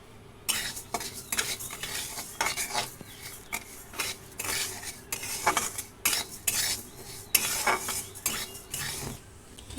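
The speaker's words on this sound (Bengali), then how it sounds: "এবার এটাকে একটু অল্প করে ভেজে নেব, অল্প লাল লাল লাল হবে সেরকমটা" Mung dal dry-roasts in a wok on a gas flame, stirred with a metal spatula in repeated scraping strokes that rise and fall in a steady rhythm, close and crisp, with no talking.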